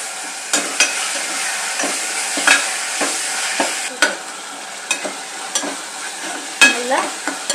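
Ginger garlic paste and tomato frying in oil for biryani, stirred with repeated scraping strokes over a steady close sizzle, with no talking.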